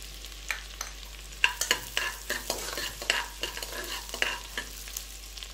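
Onion, ginger and garlic fry in a pan for wheat rava kitchadi, a continuous hiss broken by frequent sharp spoon scrapes and clinks as they are stirred, fairly close and without voices.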